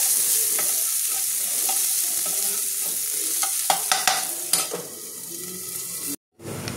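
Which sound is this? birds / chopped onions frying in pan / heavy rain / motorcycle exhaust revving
chopped onions frying in pan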